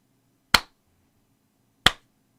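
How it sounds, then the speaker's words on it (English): Two sharp hand claps about 1.3 seconds apart, crisp and close in an otherwise quiet room. "I'm going to clap a couple of times."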